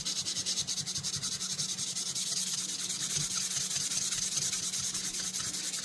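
Wet sanding with water on an old Craftsman or Remington tool, a continuous rhythmic scratchy rubbing, close and steady with fast regular strokes and no talk.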